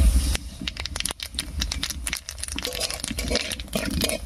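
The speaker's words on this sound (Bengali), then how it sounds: "কালো জিরাটা ভাজা হয়ে গেছে" Black cumin seeds crackle in hot oil left from frying lentil dumplings, a dense run of close, sharp pops and spits over a low hiss.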